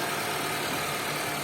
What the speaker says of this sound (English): And it's the engine purring away